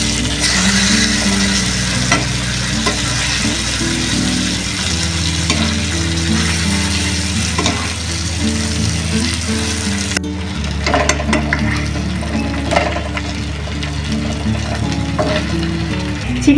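Chicken pieces fry in butter with soy sauce in a pan, a steady close sizzle and crackle with occasional scraping and stirring sounds throughout.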